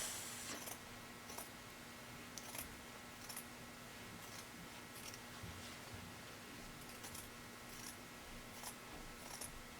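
Scissors snip fabric seam allowance on a V-neck dress bodice in a quiet room, with faint, irregular small clicks and cuts over low background hum.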